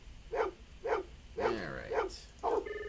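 Dog in the Blade Runner video game gives several short, moderately close barks in an even rhythm, ending with a higher yip and a faint tone.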